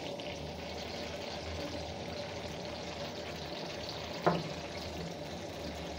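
Onions frying in hot oil in a pan give a steady, soft crackling sizzle throughout, with one brief clink of a utensil partway through.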